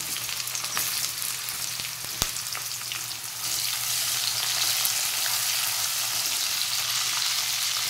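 Chopped onion hits hot oil in a pan for veg Hakka noodles, setting off a loud, steady sizzle close by that swells after a few seconds as it is stirred, with an occasional clink of a utensil.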